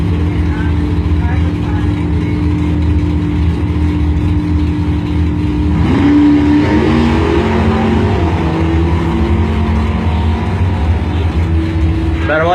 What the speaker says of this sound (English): Next up, Andrew Heineck, 69 Dart from Interlochen.